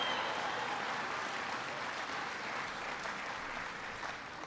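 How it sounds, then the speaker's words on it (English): Steady applause from an audience at a stamping plant in Kansas City during Barack Obama's economy speech, a continuous moderate-level patter of many hands that fades slightly toward the end. "Come on, give Todd a big round of applause."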